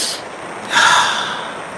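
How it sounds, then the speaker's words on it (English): A person draws one deep, sharp breath in, close and loud, followed by a quieter, lingering exhale. "Take a breath."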